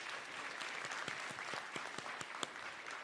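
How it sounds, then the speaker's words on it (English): An audience claps after a university choir performance at a tourism summit, a faint, scattered crowd applause with individual sharp claps standing out, heard from some distance. "Are we allowed to clap?"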